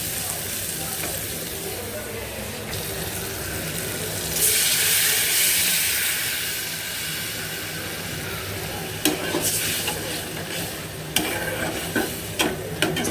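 Spice paste with eel fish frying and being stirred in a pan, a continuous loud sizzle with scraping stir strokes and occasional clinks, no talking.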